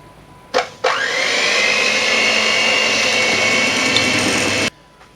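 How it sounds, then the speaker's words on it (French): An electric hand mixer clicks on and whirs at a steady high pitch for several seconds beating chocolate fondant cake batter, loud and close, then cuts off abruptly. "on va prendre notre batteur électrique et battre toute la préparation"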